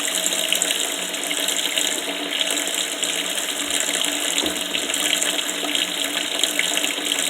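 A sink faucet runs hot water steadily to soak a wash rag for washing dishes, a constant close splashing hiss with no talk over it.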